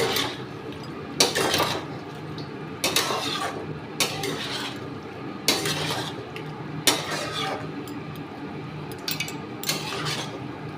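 Paneer being stirred into sauce in a pan, with repeated scraping clatters of a utensil against the metal in bursts every second or so, close up over a soft steady background.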